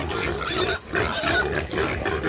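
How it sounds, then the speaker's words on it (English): Pigs grunting and squealing loudly up close on a farm while a pig is moved, in three dense bursts separated by a brief lull. "this is exactly what the pigs did last time we moved the other one over"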